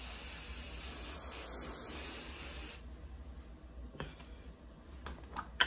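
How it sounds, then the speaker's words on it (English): Firm-hold finishing hair spray from an aerosol can hisses steadily for almost three seconds, then cuts off, leaving a quiet room with a few small clicks and rustles. "I'm gonna spray it with some holding spray, with some finishing spray, firm hold from Care"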